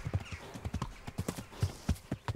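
Horse hooves clip-clopping in the medieval video game Kingdom Come: Deliverance, a steady run of close, distinct hoofbeats with a faint whinny and no one talking.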